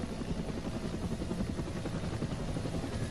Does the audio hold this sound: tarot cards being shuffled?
no